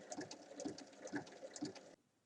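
Sewing machine stitching around a flat fabric bag, a quick rhythmic run of close mechanical clicks and whirs lasting about two seconds before stopping.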